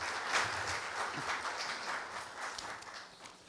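Audience applause at a Korea University campus town fair welcoming a district mayor to the stage for a congratulatory speech; steady, dense clapping from an indoor crowd throughout.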